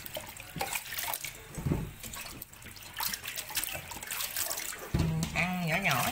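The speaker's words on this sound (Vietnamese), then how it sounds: "Khổ qua về phải rửa nha con. Rửa qua nước muối nha." Running tap water splashes over bitter melon being rinsed in salted water in a home kitchen, a steady wash with bursts and clatter, while people talk nearby.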